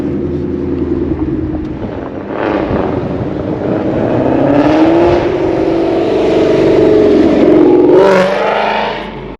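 A worn-out Ford Mustang drives past close and loud. Its engine drones steadily and swells as it accelerates, and the rumble continues throughout.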